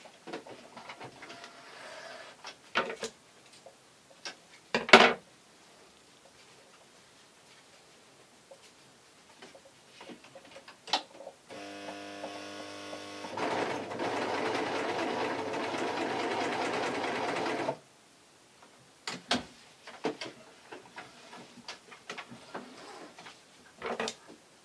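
A sewing machine runs one steady burst of about six seconds, stitching two pieces of taffeta together around the arm of a baby's party dress, with scattered handling clicks before and after.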